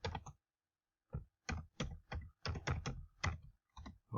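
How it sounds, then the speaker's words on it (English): Someone types on a computer keyboard in short bursts of crisp, close key clicks, with a pause near the start and otherwise no other sound. "as soon as I start typing"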